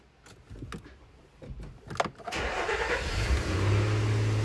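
A Nissan Xterra's engine cranks with a few rough clicks and bursts, then catches and settles into a steady, loud idle close by.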